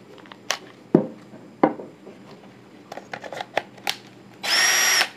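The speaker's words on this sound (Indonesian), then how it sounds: "Kemudian pada cordless drill Inco," An Inco cordless drill with a non-brushless motor sits briefly, then whirs for about a second near the end after several handling clicks and knocks, loud and close with no talking.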